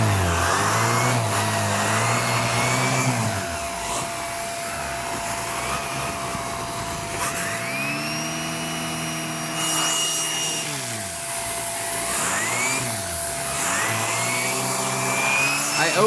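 A Hoover React Professional Pet vacuum cleaner runs continuously on a couch, its motor whine steady and close. The pitch drops and rises several times as the suction load changes.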